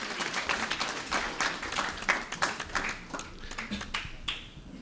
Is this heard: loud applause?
yes